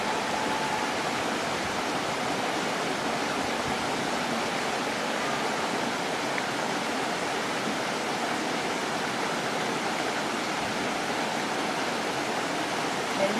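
A river flowing through open countryside, rendered as a steady, broad rushing wash that holds constant and fairly close for the whole stretch, with no voices over it.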